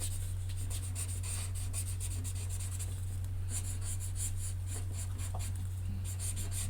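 Soft, continuous scratching of a blender pen rubbing back and forth on paper in quick strokes, close up, with a steady low hum underneath.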